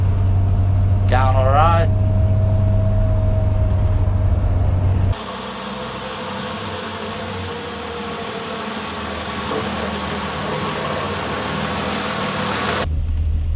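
A Triumph 2500 MK I engine idles with a steady low drone while someone speaks briefly, then is revved up into a louder, rougher roar for several seconds before dropping back to idle.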